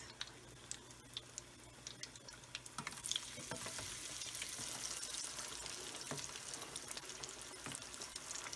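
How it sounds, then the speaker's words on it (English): Breaded Sicilian arancini rice balls going into hot oil for deep-frying: a faint hiss with scattered small ticks and pops that rises into a steadier bubbling sizzle partway through, quiet and close with no talk. "So we are ready to fry them up, and you will see the end result"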